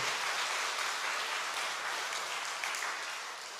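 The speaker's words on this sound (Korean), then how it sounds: "우리 이 팀 힘내라고 뜨거운 박수 한번 합시다" Loud, sustained applause from a large church congregation at an early-morning prayer service, steady clapping with no talking, tapering off slightly at the end.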